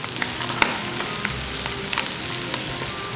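Poultry pieces browning in a pan for a mustard fricassée, a steady close sizzle and crackle with small spits and occasional stirring scrapes, no talk.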